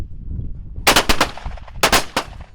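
Shotguns fired on a sporting clay course, several sharp, loud blasts in two quick clusters, close by with short decaying tails and no talk.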